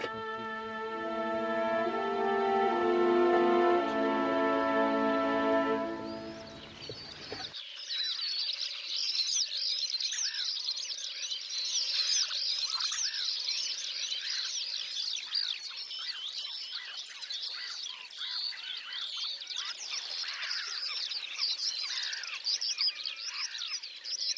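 Migrating birds calling on an island in the Vistula river during autumn migration, a dense, steady chorus of high chirps and tweets continuing without pause, preceded at the start by a brief sustained tonal sound.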